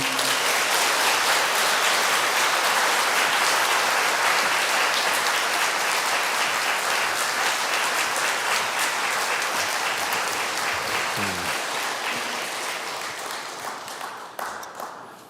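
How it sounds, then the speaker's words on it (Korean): A Korean church congregation at an evening revival service welcomes the pastor with loud, vigorous applause, a dense continuous wall of clapping that gradually thins and fades near the end. "나오실 때 힘찬 박수로 모시겠습니다."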